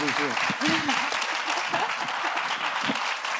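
An audience applauds at the close of a fireside chat at a conference, sustained clapping filling the hall while a voice talks over it.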